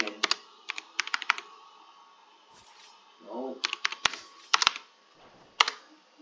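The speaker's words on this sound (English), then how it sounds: "I'm typing random stuff." Fingers tap a computer keyboard in quick irregular bursts of clicks, close and crisp, separated by short pauses and a few sharper isolated keystrokes, with a brief muffled voice in between.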